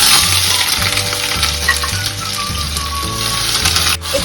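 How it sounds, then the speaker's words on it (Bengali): Onions frying in hot mustard oil give a loud, continuous crackling sizzle, close up, with a faint rhythmic hum underneath. "দেখতে দেখতে তেল গরম হয়ে গেছে। এবার এতে আমরা পেঁয়াজটা পেরেস্তার জন্য দিয়ে দেবো।"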